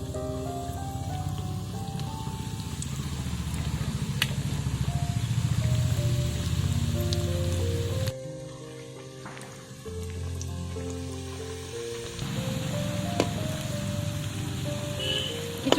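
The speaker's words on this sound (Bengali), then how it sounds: "তেলটা আমাদের গরম হয়ে গেছে এবার এর মধ্যে আমি স্ন্যাক্সগুলো এক এক করে ছেড়ে দেবো" Snacks dropped one by one into hot white oil in a wok give a steady, close crackling sizzle that dips briefly partway through and then returns. No one speaks.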